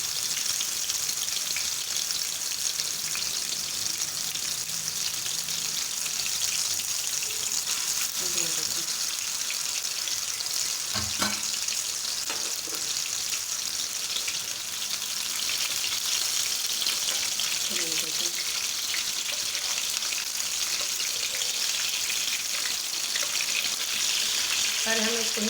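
Chapli kabab sizzles in a pan over a normal flame, a steady close hiss and crackle with occasional pops and clinks, running continuously throughout.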